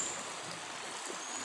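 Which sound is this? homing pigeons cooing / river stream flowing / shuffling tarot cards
river stream flowing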